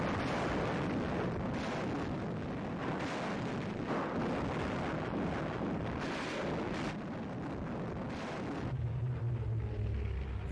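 Artillery fire in archival war footage of a modern army invading Abyssinia, a dense continuous roar of rumbling blasts and booms, loud and washed out, ending in a lower sustained drone.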